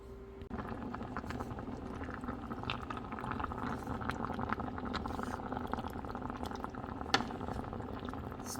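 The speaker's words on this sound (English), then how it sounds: "You want to boil this on medium high." Beef curry with coconut milk bubbles on medium-high heat in a pot, a steady soft simmering burble with small pops, close and continuous with no talk over it.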